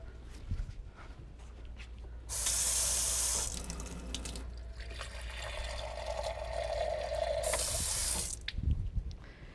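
Water runs from a kitchen tap into a glass in a quiet room, a steady hissing pour that starts abruptly, continues for several seconds with a filling tone, and stops, followed by a brief second burst.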